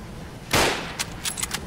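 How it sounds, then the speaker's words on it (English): Gunfire in the video game Fallout London: one loud, sharp burst followed by a few quicker, fainter cracks and pops over the game's ambient background. "I'm shooting where the fire is coming from and I'm hitting something"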